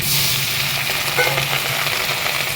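A small tomato and a splash of water go into hot oil with cardamom, cinnamon and bay leaf in a Bengali kitchen, setting off a loud, dense, continuous frying sizzle close by, with no voices.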